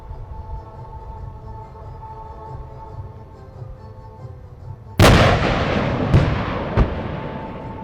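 12.7mm heavy machine gun and 7.62mm general purpose machine gun firing together at a military firepower training range, a sharp loud burst erupting after a low rumbling background, followed by two further cracks over a long decaying echo.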